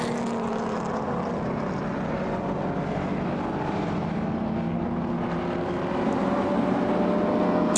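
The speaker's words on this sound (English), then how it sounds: "Alfa Romeo have very seldom made an engine that didn't sound exquisite." A steady, droning engine roar from an Alfa Romeo GTV6 racing car at a historic race in London, continuous and fairly loud, rising slightly toward the end.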